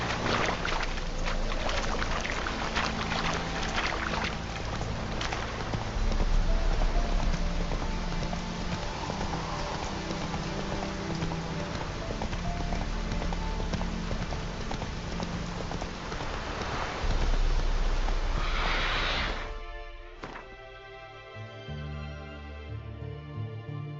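Geralt's horse Roach galloping in The Witcher 3, a steady patter of hoofbeats under a wash of rain-like noise, loud and close for about twenty seconds before fading into music.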